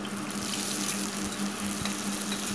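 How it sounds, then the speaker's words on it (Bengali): Onions frying in oil with garlic make a steady, even sizzle that runs close and unbroken, with a faint hum underneath. "পেঁয়াজ দিয়ে পেঁয়াজটাকে ভালোভাবে ভাজতে হবে।"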